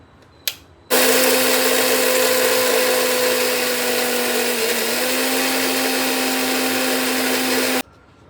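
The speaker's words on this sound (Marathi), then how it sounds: "तर हे मी मस्तपैकी मिक्सरला फिरवून घेते अगदी छान बारीक होईपर्यंत" A kitchen mixer grinder whirs loudly and steadily as it grinds dried mint into powder, switching on abruptly after a short click and running for about seven seconds before cutting off sharply.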